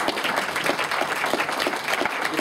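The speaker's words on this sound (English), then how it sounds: "Everyone, just give them a round of applause," An audience at the 2012 Colorado 9-1-1 Issues Summit applauds the sponsors: dense, even clapping from a crowded room, steady and fairly close for the whole stretch.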